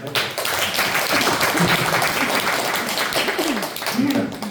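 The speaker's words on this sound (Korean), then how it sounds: "하나님 감사하는 박수 한번" A church congregation claps in thanks to God during a pastor's sermon, a dense wash of many hands filling the room loudly, with voices mixed in beneath.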